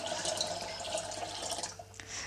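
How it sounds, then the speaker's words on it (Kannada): Water trickling and splashing as it is poured into spiced buttermilk, a steady close pour that tapers off near the end with a few drips. "ಇದಕ್ಕೆ ನಾನು ಒಂದು ಸ್ವಲ್ಪ ನೀರನ್ನು ಸೇರಿಸ್ಕೊಳ್ತಾ ಇದ್ದೀನಿ"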